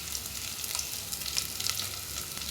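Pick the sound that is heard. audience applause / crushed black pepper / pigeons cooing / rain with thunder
crushed black pepper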